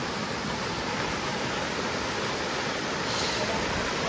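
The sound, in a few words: river water flowing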